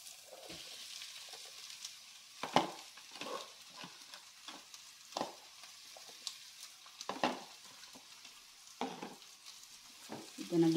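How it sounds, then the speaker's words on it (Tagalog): Chicken for empanada filling is sautéed in a pan, a soft sizzle broken by scraping stirs and occasional clacks of a utensil against the pan, fairly quiet with no talking. "Gonna gisa-gisa the chicken."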